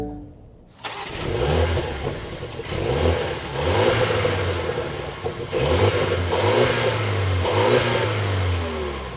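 A 2025 Mini Cooper John Cooper Works engine cranks and fires up after a brief silence, then settles into a rumbling idle broken by several sharp revs, loud and close.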